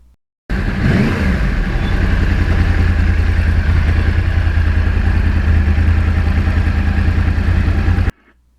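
A Yamaha R1 crossplane motorcycle riding through a lake area of northern New Jersey, a loud continuous engine drone with rumbling low tone and wind noise, starting abruptly and holding steady for about eight seconds.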